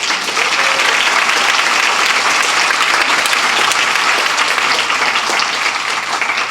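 A full audience applauds the grant committee at an Impact 100 Redwood Circle gathering. The clapping is loud, dense and steady for about six seconds, with no speech over it.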